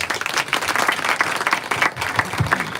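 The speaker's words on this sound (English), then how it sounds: "Kindly give our CS a round of applause." Applause from an audience at a Kenya Dairy Board report launch, a dense burst of many hands clapping at once that carries on steadily for a few seconds.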